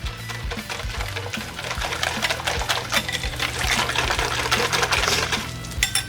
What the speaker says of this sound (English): I'm going to give this just a quick mix.